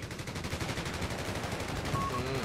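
Sustained gunfire in the Company of Heroes 3 war game, a dense, continuous rattle of rapid shots with a low rumbling battle bed, steady and loud throughout with no pauses.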